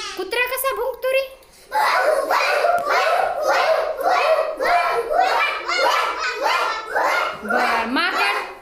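Schoolchildren in a first-grade class imitate a dog barking together, a loud chorus of repeated vocal barks in a steady rhythm, with some giggling and chatter around them.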